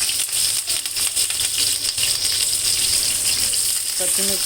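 Chopped vegetables fry in a wok with cumin, mustard seeds, green chili, coriander and tomato, making a loud continuous sizzle. Stirring rattles and metallic taps sound near the end. No one speaks.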